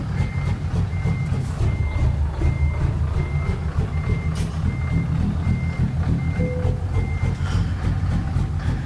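A Melton semi truck rolls with a low, steady engine rumble, while a reversing alarm beeps at regular intervals over the drone, loud and near.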